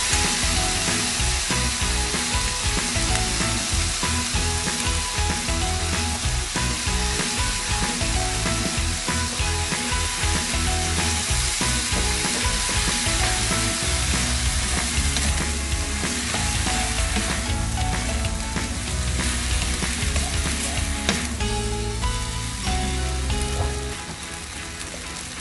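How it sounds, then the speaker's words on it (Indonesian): Spaghetti frying in a pan with garlic and prawns, a loud continuous sizzle with stirring and scraping clatter close up, steady for the whole stretch and easing slightly at the end, no voices. "Lalu masukkan spaghetti ke dalam pan."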